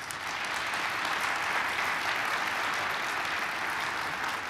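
Steady, dense applause fills the room at a bank's annual shareholders' meeting, a full crowd clapping continuously at an even, sustained level with no voices over it.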